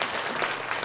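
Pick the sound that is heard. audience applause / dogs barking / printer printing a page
audience applause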